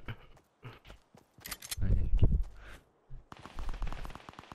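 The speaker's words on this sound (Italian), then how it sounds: "Ogni volta che sento quegli spari in alto." Fortnite gunfire comes in rapid, regular bursts of sharp cracks over the last second or so, after scattered game noises and a voice speaking earlier.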